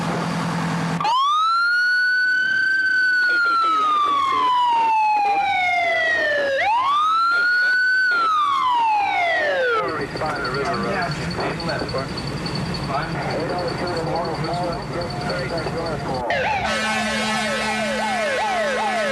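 Fire engine sirens wail loudly and continuously, rising and falling in long sweeps, then shifting to a rapid yelp and an air horn as the trucks draw near a house fire call in Chatham Township, New Jersey; speech is present throughout.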